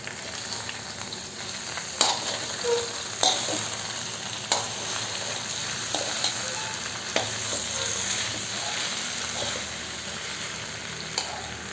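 Boiled tapioca and grated coconut are stirred in a hot pan for a Kerala-style dish, giving a steady low sizzle with occasional sharp scrapes and clicks from the spatula, close and without talk.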